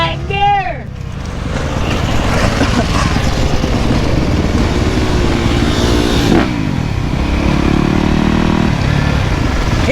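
A two-stroke dirt bike engine revs loudly and close, its pitch climbing and falling through the throttle with a steady buzzing drone, while a shout is heard at the start.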